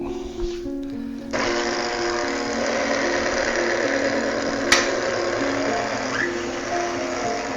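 An electric stand mixer fitted with a paddle attachment mixes salt and nutmeg for German egg noodle dough, giving a steady, close mechanical whir that starts after a quiet second and runs evenly, with one brief click near the end.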